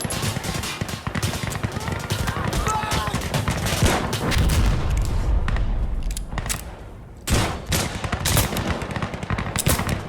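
Rapid automatic gunfire and shots in the online shooter game Insurgency Sandstorm, dense and loud with bursts overlapping throughout, and players talking and shouting over it.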